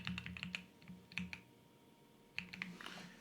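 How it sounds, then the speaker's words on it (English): Password being typed on a computer keyboard during a Gmail password change, quick clusters of light clicking keystrokes with brief pauses between, close and fairly quiet, no voices. "So type the password in again."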